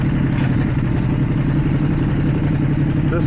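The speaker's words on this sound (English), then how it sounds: "Again, this bike has the stock exhaust," A 2024 Ducati Panigale V2 idles on its stock exhaust with the flapper valve open, giving a steady, loud, close mid-frequency engine rumble with a lumpy, uneven pulse throughout.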